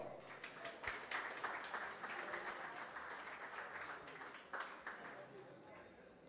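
Audience applause at an awards ceremony, a dense patter of clapping hands with a few sharper peaks, fairly faint and steady throughout.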